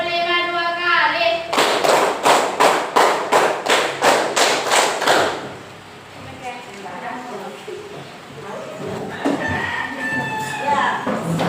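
A class claps hands in a counted pattern, about ten loud, evenly spaced claps in a brisk row, followed by several voices talking.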